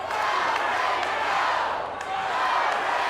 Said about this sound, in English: Crowd at the TNA Asylum, many of them on their feet, chanting for Raven